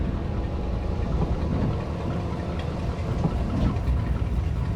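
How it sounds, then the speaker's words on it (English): Deep, rumbling engine drone of a car in American Truck Simulator, a steady low throb with a faint rhythmic pulse, continuous and fairly loud with no talking. "that glug, glug, glug, glug sound sounds like this car"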